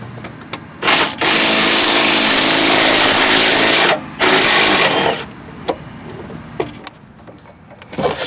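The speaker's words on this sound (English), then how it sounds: "when I remove the last bolt" A power tool removes the last steering gear box bolt on a 1993-98 Jeep Grand Cherokee, with a loud, close whirring run of about three seconds, a brief pause, another short burst, then scattered clicks and knocks.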